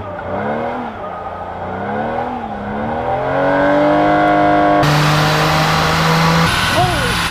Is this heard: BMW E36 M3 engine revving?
yes